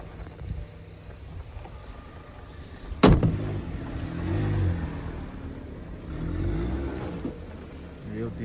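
Car engine revving as the car turns around on a muddy road, a sharp bang or door thump early on, then two swelling rev surges under a low steady rumble, close and fairly loud with some voices nearby.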